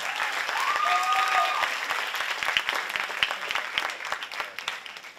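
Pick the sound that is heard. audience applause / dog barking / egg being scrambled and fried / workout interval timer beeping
audience applause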